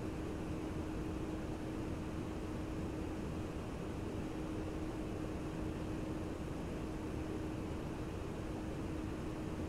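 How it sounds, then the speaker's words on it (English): A FlyJSim 732 airliner in the X-Plane flight simulator gives a steady, loud cabin roar, a broad constant rush of noise with a faint low hum that stays unchanged for the whole stretch. "Sounds in this airplane are just awesome."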